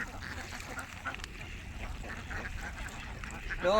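Ducks quack near a village pond in a series of faint, somewhat distant calls over a low, steady outdoor background, with a brief louder note at the very end.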